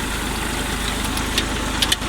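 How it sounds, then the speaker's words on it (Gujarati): Tractor engine running steadily while sowing cumin in a field, a low continuous drone with faint clicks and rattles near the end, no talk. "આપણે ટ્રેક્ટરથી જીરું વવાય છે."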